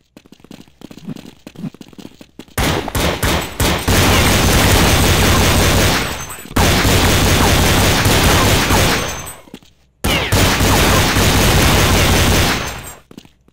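Counter-Strike 1.6 gunfire, loud and near: sustained bursts of rapid automatic shots in dense volleys broken by brief pauses, after a quieter opening with scattered single shots.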